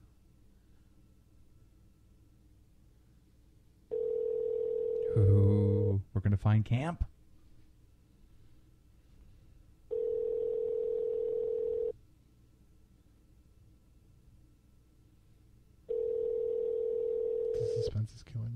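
Telephone ringback tone during an outgoing call, sounding as three steady two-second tone bursts separated by silent gaps, with brief excited voices speaking over the room in between.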